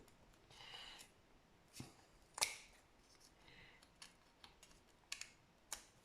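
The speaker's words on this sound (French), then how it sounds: "Moi, je coupe au ciseau." Scissors snipping through wooden popsicle sticks while building a small Christmas chalet craft, a series of sharp separate clicks and cracks spread unevenly over several seconds, close and fairly quiet.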